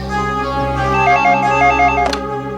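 A telephone rings in a tense police-drama scene, its bell pattern repeating steadily over a constant background hum, loud and close with no talking.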